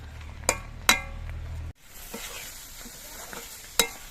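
Beetroot simmers in a pan as its water cooks off, a soft steady sizzle with a few sharp clinks of a utensil against the pan and a brief pause midway, close and without voices.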